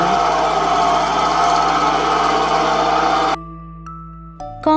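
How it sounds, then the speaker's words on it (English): A construction compactor engine runs loudly with a steady mechanical drone for about three seconds, then cuts off abruptly, leaving brief quiet and a short clunk at the end. "Compactor."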